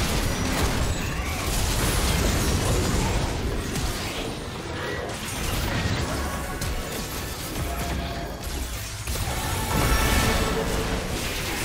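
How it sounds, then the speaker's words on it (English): Turret being destroyed in League of Legends, a dense, loud stretch of crashing, booming and mechanical impact sounds layered over game effects, surging in waves across several seconds. "Team's turret has been destroyed."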